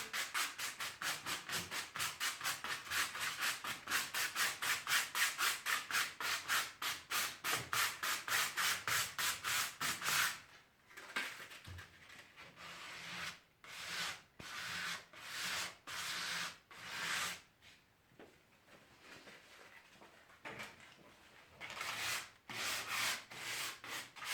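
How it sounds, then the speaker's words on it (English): Wood being sanded by hand with 120 grit sandpaper to lightly distress a painted chest of drawers: a steady run of fast, close rasping strokes, then slower, spaced-out scrubbing passes with brief pauses between them. "I'm just using 120 grit sandpaper as well."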